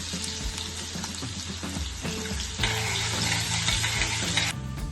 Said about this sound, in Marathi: आता यामध्ये बारीक कट केलेला अद्रक आणि बारीक कट केलेला लसूण घालूया.